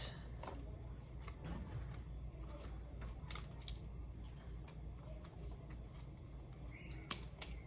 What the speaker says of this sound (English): I'm just cutting out teardrop shapes